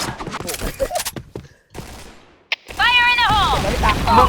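Gunfire and a grenade blast in a team shooter video game, heard as rapid bursts of close shots, a lull, then a sharp bang followed by a loud rumbling burst with tonal game effects, among voices.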